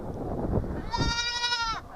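Baby goats bleat for their mother after being pulled away at feeding time on a small farm; one loud, wavering cry rises over low background rustle near the end.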